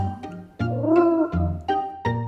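A cat gives a single drawn-out meow, fairly loud and close, with a few short sounds before and after it.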